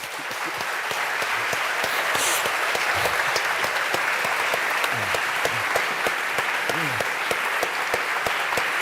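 A lecture audience at the Cambridge Union applauds after the talk with sustained, dense clapping from a large crowd, loud and continuous, with a few faint voices and cheers mixed in.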